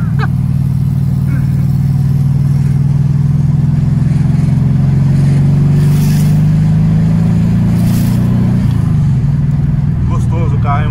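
A turbocharged Volkswagen Beetle's engine drones loudly and accelerates with a deep, strained hum, pitch climbing steadily before shifting down near the end; some talk underneath.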